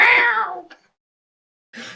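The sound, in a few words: cat meowing in the background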